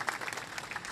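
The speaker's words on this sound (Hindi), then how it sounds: "जब आप सब तालियां बजाएंगे" An audience claps at an Independence Day celebration and certificate distribution held by a disability welfare group, a dense, steady burst of applause lasting about a second with no talk.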